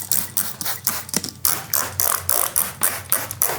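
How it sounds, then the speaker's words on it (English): A handheld spray bottle is pumped over and over, spritzing cleaner onto freeze dryer shelves in a series of quick, close, sharp hissing bursts with short gaps between them. "So let's go ahead and just spray everything down."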